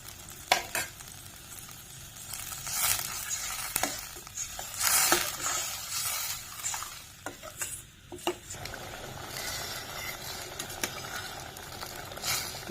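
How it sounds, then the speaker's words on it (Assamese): Tomatoes fry in a pan with turmeric powder while a spoon stirs them now and then: a steady close sizzle runs throughout, broken by scraping strokes and light clinks against the pan. "এই বিলাহীখিনি প্ৰায় ফ্ৰাই হৈ গৈছে।"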